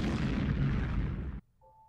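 A loud bombing explosion in the video game Super Seducer 2 roars as one sustained broadband blast for over a second, then cuts off sharply into near silence with a faint tone after.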